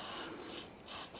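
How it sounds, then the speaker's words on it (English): Contact spray hisses in two short bursts onto a car's rusty handbrake cable, close and fairly quiet. "Just using contact spray."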